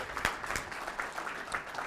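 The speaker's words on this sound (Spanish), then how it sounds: "Y otro aplauso para ella." A short burst of audience applause at an animal welfare talk for dairy supervisors, moderate clapping with a few sharper claps standing out, over in under two seconds.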